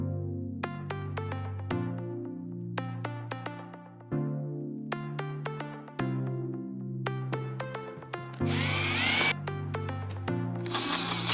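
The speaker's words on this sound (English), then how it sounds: "But I need to drill out the bolt holes" A power drill bores out bolt holes for a Jeep JKU cargo plate. Its motor whines at stepped, shifting pitches, then breaks into a rougher grinding burst near the end. The sound is steady and close, with no talking.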